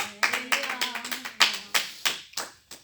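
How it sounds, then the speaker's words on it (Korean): A church congregation gives a brief round of applause for God, with sharp, separate claps in an uneven rhythm over a faint sustained tone, close and fairly loud. "그 영광의 하나님께 박수 올려드립니다"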